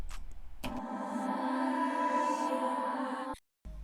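Reversed, heavily reverbed vocal syllable chops from a hyperpop remix of a song swell into a sustained, smeared tonal wash lasting about three seconds. They end abruptly, followed by a brief silence and a short return.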